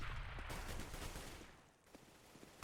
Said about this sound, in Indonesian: Sis dan Frost Misty tembak-tembakan sedikit